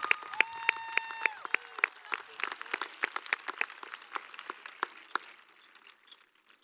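Scattered audience applause at a high school graduation ceremony, distinct individual claps in a moderate, uneven patter that thins and fades out, following a brief sustained musical tone at the start.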